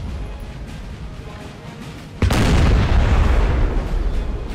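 Cannon artillery fires on a Napoleon: Total War battlefield. Low battle ambience comes first, then one sudden heavy boom leads into a long, loud rumbling roar.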